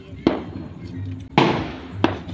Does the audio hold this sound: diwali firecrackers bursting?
yes